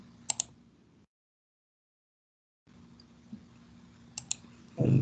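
Computer keyboard and mouse clicks during 3D CAD modelling: sparse, crisp, quiet clicks in a small room, with a stretch of complete silence in the middle and a louder bump at the end.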